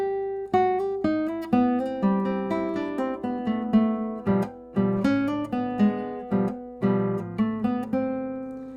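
Classical guitar plays a Giuliani-style appoggiatura motive in clear plucked notes with a steady, repeating rhythm. Each phrase leans into a slurred resolution, close and solo with no voices.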